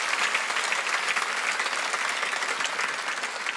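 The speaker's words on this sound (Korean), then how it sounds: "똑같이 가고 왜 박수 안 쳐요?" Congregation applauding during a Korean Sunday worship service, a dense, even wash of many hands clapping together, steady and fairly loud throughout with no talk over it.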